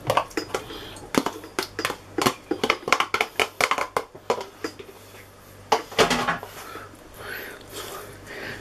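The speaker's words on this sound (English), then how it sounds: "And now you give all your apple a mix in with it as well." Chopped apple is stirred into a crumble mixture in a bowl with a spoon, making a run of close, irregular scraping clacks, some in quick bursts, with a short pause partway through.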